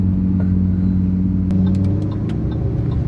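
A Lamborghini Aventador exhaust rumbles in a deep, steady, loud drone up close, with a few sharp crackles toward the end.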